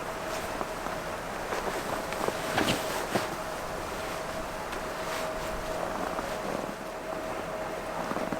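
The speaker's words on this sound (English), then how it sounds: "I have to admit, the wind makes it pretty cold." Wind rushes steadily past a winter campsite on a cold night, a constant moderate gusting hiss with scattered faint knocks and rustles.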